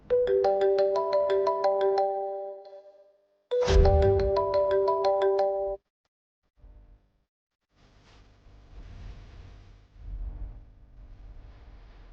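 A telephone ringtone plays a bright, melodic electronic tune in two loud bursts of about three seconds each, separated by a short pause. Low rumbling noise and faint sounds follow once the ringing stops.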